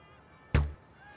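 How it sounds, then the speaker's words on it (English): A single arrow strikes the target in a London 2012 archery video game, one sharp close thud that fades quickly over a quiet background. "Arrow number 2, N4."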